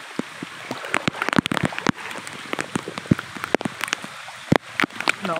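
Rain falls outdoors, a steady close patter with many sharp individual drops striking a surface, fairly loud and continuous with no talk.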